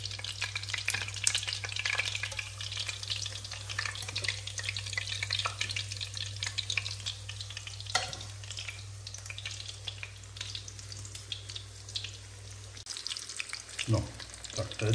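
A second batch of chicken pieces deep frying in oil, a dense continuous crackle and bubbling hiss with a low steady hum beneath, a few sharper knocks near the end, no speech.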